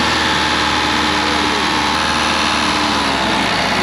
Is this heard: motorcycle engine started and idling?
yes